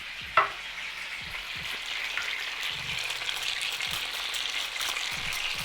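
Chicken sizzles steadily in a hot pan, a bright continuous hiss with an occasional soft clink and light scraping.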